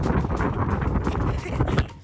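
Wind blows hard across the open Bonneville Salt Flats, a dense, steady roar with gusty surges buffeting close to the microphone for about two seconds.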